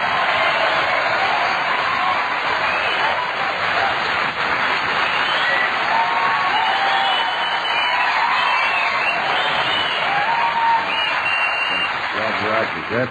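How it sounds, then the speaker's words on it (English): Sustained applause from a crowd, a dense steady clatter of clapping that continues at an even level throughout. "a big round of applause"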